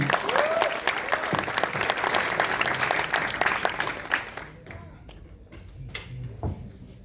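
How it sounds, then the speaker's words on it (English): An audience at a start-up talk with company founders at IIT Bombay applauds loudly and continuously, dense clapping filling the hall before thinning out toward the end, with some voices mixed in. "Please put a huge round of applause once again."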